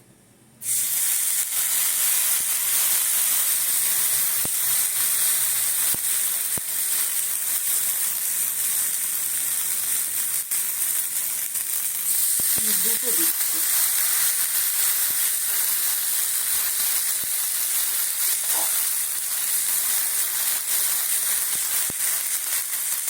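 Semolina chilla batter spread onto hot oil in a pan, setting off a loud, steady sizzle and hiss that starts abruptly and runs unbroken throughout, with a few faint clinks near the end.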